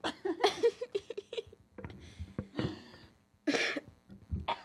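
A young woman coughs repeatedly in short, harsh bursts, with a few throat-clearing sounds between them, close to the microphone and irregular in rhythm.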